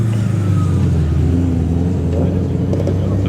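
A Corvette engine revving nearby, a steady loud rumble with a rising tone, mixed with voices talking over it.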